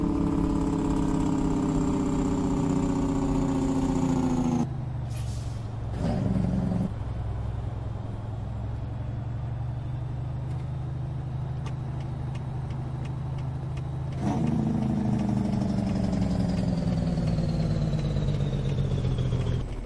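A semi truck's diesel engine in American Truck Simulator rumbles as the rig slows, its harmonic drone dropping out mid-way to a low hum before the engine tone returns strongly near the end.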